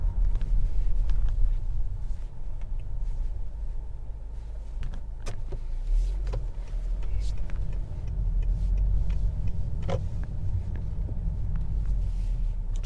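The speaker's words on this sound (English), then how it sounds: "Let's do another acceleration." A 2021 Honda Accord 2.0T Touring car accelerates, heard from inside the cabin as a steady low engine and road rumble that swells gradually and stays continuous, with a few faint clicks over the drone and no talking.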